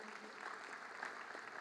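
Audience at a Jamhuri Day celebration presided over by President Ruto claps in a dense, steady wash of applause, moderately loud and continuous with no clear pauses.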